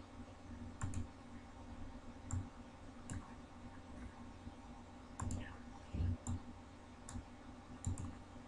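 Computer keyboard being typed on while entering code, sparse quiet clicks and short bursts of keystrokes spread over several seconds against a soft background hum.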